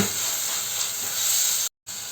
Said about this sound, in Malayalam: അത് നമുക്കിതിലേക്ക് ചേർത്ത് കൊടുക്കാം അതുകൂടി നന്നായിട്ടൊന്ന് ഇളക്കി കൊടുക്കാം